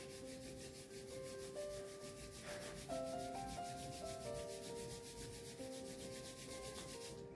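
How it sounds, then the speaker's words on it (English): Palms rubbed briskly together during a seated yoga practice, a steady soft swishing friction sound lasting several seconds under faint background tones, close and quiet. "Rub your palms."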